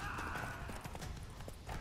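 Roach, a horse in The Witcher 3, galloping in the game: rhythmic clip-clop hoofbeats under a steady bed of ambient game noise, moderately near with a faint hint of a neigh.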